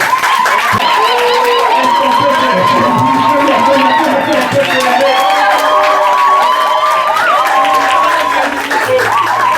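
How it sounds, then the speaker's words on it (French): Wedding guests cheer and acclaim the couple after the nuptial blessing, a loud, continuous crowd roar of voices, shouts and ululating cries with clapping underneath. "Est-ce qu'ensemble, nous pouvons nous lever avec nos acclamations pour acclamer cet acte?"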